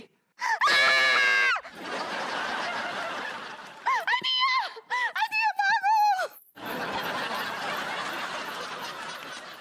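A woman screams in a Hindi TV sitcom household scene: one long, loud, high-pitched scream, then a pause and a burst of short, wavering cries, set against a noisy background.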